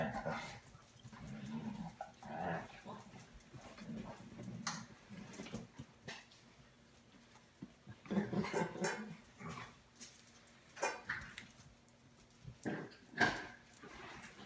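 Puppies playing, giving off scattered yips, whimpers and scuffling bursts that come and go at close range, with a few faint voices now and then in the background.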